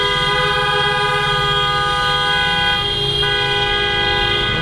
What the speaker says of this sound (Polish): Tu macie standardowe trąbienie